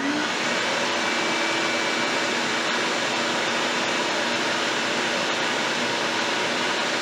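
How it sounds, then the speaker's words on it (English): An old DeWalt shop vac runs with a loud, steady broadband roar and airy hiss, close up and unbroken throughout. "Now we're going to turn this shop vac on, the old one."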